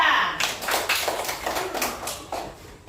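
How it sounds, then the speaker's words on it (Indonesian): Students in a classroom clap their hands for a group presenting at the front, a series of quick, fairly close claps in an uneven rhythm, mixed with children's voices talking. "Tepuk tangan dulu kelompok 2"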